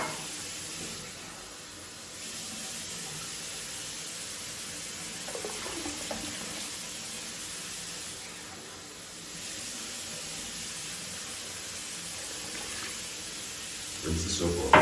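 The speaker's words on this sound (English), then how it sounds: "I'm gonna try to rinse the soap off." Running tap water streams steadily onto a shoe sole to rinse off soap, a continuous close hiss of splashing water with slight changes as the sole moves under the flow.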